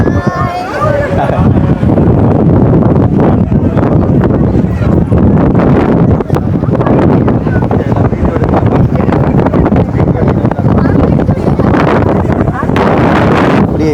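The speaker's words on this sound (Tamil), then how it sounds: "நல்ல காற்று வேறு அடிக்குது" Strong wind roars against the microphone in a loud, constant low-frequency rush at a crowded night temple festival on Nainativu island, with faint voices and bustle underneath.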